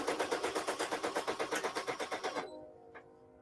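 A Brother SE1950 embroidery machine stitching in-the-hoop earrings runs with a fast, even mechanical chatter of needle strokes for about two and a half seconds, then stops abruptly, leaving a faint hum and one small click.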